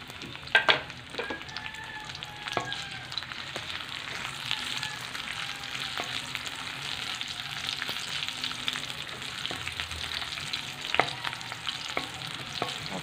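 Onions sauté in a pan for chicken tinola, a soft steady sizzle with occasional sharp clicks and scrapes of a utensil stirring, close by and moderately quiet, with no voices over it.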